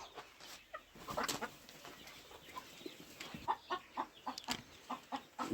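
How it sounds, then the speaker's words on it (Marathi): Free-range desi chickens cluck in short, scattered bursts, a flock of about a hundred nearby with a quiet background and no talking. "या आपल्या शंभर कोंबड्या असून"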